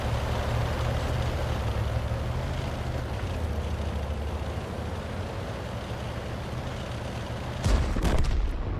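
Tank gun fire in a World of Tanks–style battle game: a steady rumble of engine and battle noise throughout, then a sudden loud blast near the end with a sharp broadband crack, no voices.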